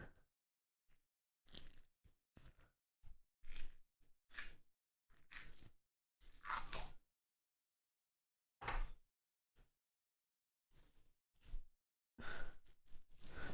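Crunchy slime is touched and squeezed, giving scattered bursts of close crackling and crunching separated by near silence, some bursts longer and denser than others.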